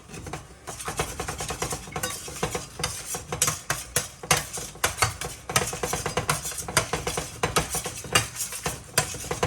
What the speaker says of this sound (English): Stir, stir, stir. Shake, shake, shake. Always keep it moving.